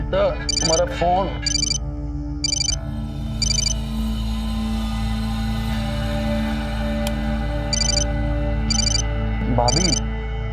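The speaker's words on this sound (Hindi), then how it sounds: "तुम्हारा फोन।" A mobile phone ringtone rings in bursts of bright repeating electronic tones across the whole span, over a low steady background hum, with voices speaking briefly near the start and end.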